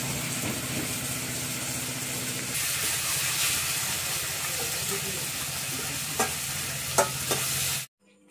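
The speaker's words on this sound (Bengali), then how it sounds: "দিদি মাছের মাথা দিয়ে রান্না করতেছে, কাঁচামরিচ আর পেঁয়াজ দিয়ে মাছের মাথা।" Fish head cooking with green chillies and onion in a village kitchen, a continuous close sizzle with stirring scrapes and a few sharp knocks before it cuts off abruptly.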